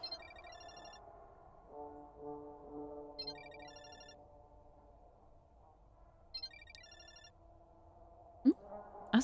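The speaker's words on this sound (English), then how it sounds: "Asuka's ringtone." A phone ringtone rings in a video game, a repeating electronic chime pattern in three evenly spaced bursts over a soft sustained musical tone, ending with a couple of sharp clicks.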